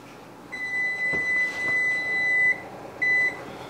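An oven timer beeps as it is set: a long steady tone held for about two seconds, then a shorter beep after a pause, over faint room noise.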